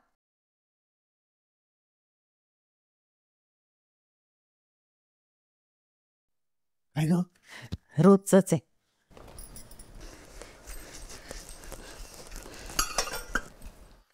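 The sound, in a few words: washing dishes, utensils clinking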